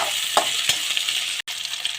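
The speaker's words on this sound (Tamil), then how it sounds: "சிம்மிலேயே ஒரு 2 நிமிஷம் நல்லா வதங்கட்டும்." Green chillies sauté in a pan over a low flame, giving a steady, close sizzle with a couple of soft stirring knocks and a brief dropout near the end, no voices.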